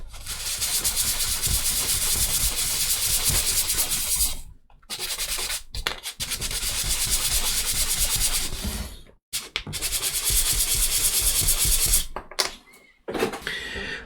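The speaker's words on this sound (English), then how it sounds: "just go around with some sandpaper, get a nice smooth over" Sandpaper rubbed over a walnut grating on a 1/84 HMS Victory ship model, a close, steady raspy scrubbing in long strokes broken by brief pauses, with no talk.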